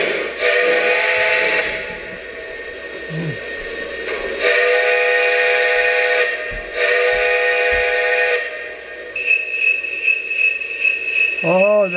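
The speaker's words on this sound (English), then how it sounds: "So we go over the whistle and horn." Whistle and horn blasts from a Lionel LionChief North Pole Central Pacific toy train engine, several sustained harmonic toots in bursts with gaps, close and loud, followed by a bright bell-like ring near the end.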